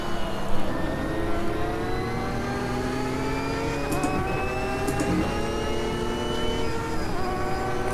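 Porsche GTE race car in the Automobilista 2 racing game, its engine revving and shifting up through the gears in a loud, continuous whine with rising and falling pitch.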